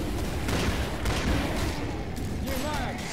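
Dense gunfire rattles through a Killing Floor match on the West London map, a constant loud wash of overlapping shots filling the whole moment.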